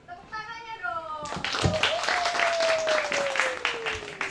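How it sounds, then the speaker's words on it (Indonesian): Audience at a public discussion forum in Pasuruan breaks into clapping after a brief tonal voice at the start, the applause dense and close, holding steady to the end with some voices mixed in. "Tepuk tangannya dong."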